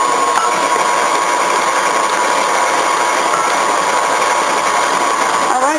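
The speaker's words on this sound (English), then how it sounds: "I'm going to stop my mixer as I always do" Electric mixer beating lemon blueberry muffin batter with eggs, a steady close motor whir with a high whine running unbroken throughout, the motor dropping away near the end.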